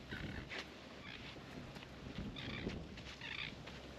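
Birds call outdoors on Tikehau, sending out repeated short bright chirps in several bursts over a steady wash of wind or surf, faint and somewhat distant.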